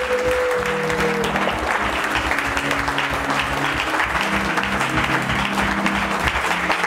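Church congregation applauding loudly and steadily during a worship service, dense continuous clapping filling the room throughout, with a faint sustained tone at the start.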